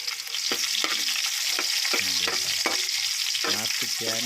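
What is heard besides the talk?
garlic sautéing in hot oil in a pan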